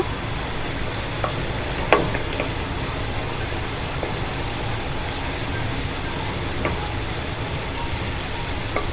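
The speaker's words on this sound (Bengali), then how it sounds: "জোরে জাল দিয়ে এটাকে ভেজে নিব হালকা ব্রাউন কালার আসা পর্যন্ত।" Chopped ginger and garlic frying over high heat in oil for beef chili: a steady, even sizzle throughout, with a few faint clicks of stirring and no talk.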